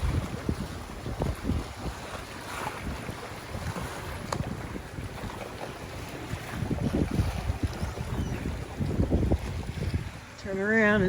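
A sailboat motors out of an inlet into rough, churning water where a strong current runs out to sea, with constant wind buffeting and splashing waves around the hull, steady and close throughout.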